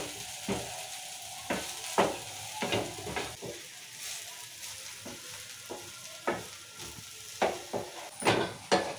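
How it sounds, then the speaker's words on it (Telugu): Carrot fry being stirred in a sizzling pan, with a soft continuous frying hiss and repeated scraping strokes of a spoon against the pan at an irregular pace, close and fairly quiet. "ఇప్పుడు క్యారెట్ ఫ్రై అయినాక వేసుకొని 2 నిమిషాలు కలిపి తీసుకుందాం."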